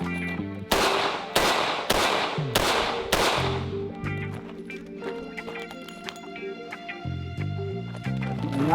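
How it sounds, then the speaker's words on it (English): A revolver drawn from a holster fires five loud, sharp shots in quick succession, followed by quieter metallic clicks of a speedloader reload over a steady tonal background hum. "I'm drawing out of the holster, I'm gonna fire 5, I'm gonna move offline, I'm gonna reload as quickly as I can"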